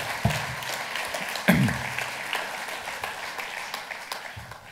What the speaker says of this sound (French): Merci de l'applaudir chaleureusement.